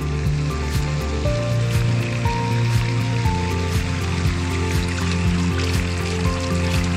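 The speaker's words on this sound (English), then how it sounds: "What a great water feature." Water feature at a lakeside RV resort flowing steadily beside a fire pit, a continuous near splashing rush with background tones and no talk.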